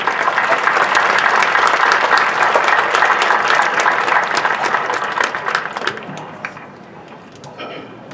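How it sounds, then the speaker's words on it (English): A large audience at Fremont Ross High School's graduation ceremony in Ohio gives loud, dense, sustained applause for the educators. It holds steady for several seconds, then thins out and fades near the end. "Let's give these remarkable educators a round of applause."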